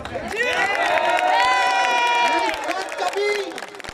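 Crowd of people hooting and jeering at a speaker during a public address, a dense mass of overlapping shouts and whoops held loud and steady throughout, with raised voices rising above the din.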